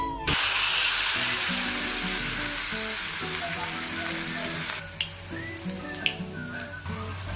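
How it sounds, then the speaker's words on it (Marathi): Battered onion deep-frying in a wok of hot oil, a steady loud crackling sizzle throughout with a few sharp pops and light stirring clinks, no voices. "कांदाही मस्त कुरकुरीत तळून झाला आहे"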